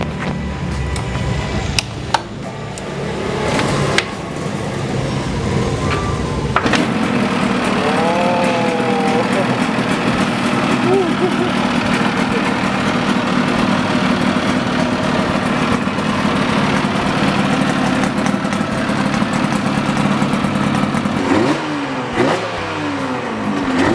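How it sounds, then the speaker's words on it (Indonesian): A Yamaha TZR 250 3MA two-stroke motorcycle engine is started and settles into a steady, loud, close-up idle with occasional blips, running continuously through the clip. "Mungkin kalian penasaran ya suaranya kayak gimana? Mas Abi mau sekalian coba nyalain ya?"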